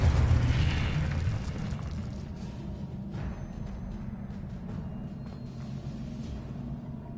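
Explosion from the Confringo blasting spell in Hogwarts Legacy, a heavy rumbling boom that hits loudly at the start and then rolls on as a long, slowly fading roar.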